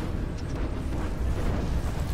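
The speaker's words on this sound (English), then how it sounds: "But explosion of that commander just going up is brilliant." A commander unit blowing up in the strategy game Planetary Annihilation, a dense, sustained rumbling roar with low booming weight and steady crackling debris throughout.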